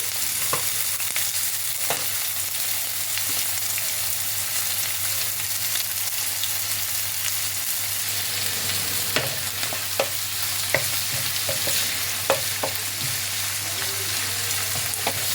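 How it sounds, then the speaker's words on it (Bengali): Chopped onions fry lightly in hot oil in a pan, giving a steady, soft sizzle with a few occasional crackles and light stirring taps, close by and with no talk. "পেঁয়াজগুলোকে আমি হালকা ফ্রাই করছি"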